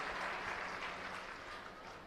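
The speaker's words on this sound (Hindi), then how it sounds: "तो जोरदार तालियों से मैडम का स्वागत" Steady, dense applause from an audience welcoming the education minister at a ceremony inaugurating two new school blocks in Delhi, sustained at an even level throughout with no talking over it.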